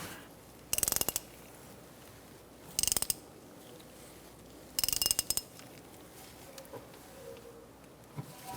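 A ratchet tool clicks in three short, sharp bursts with pauses between them, cranking the caliper piston back in on the rear brakes of a 2013-2022 Buick Encore, close and alone in a quiet garage.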